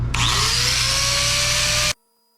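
A power tool whines steadily for about two seconds, its pitch rising slightly, as it bevels the edge of a rear suspension bushing from a 1984 Bertone X1/9, then stops abruptly.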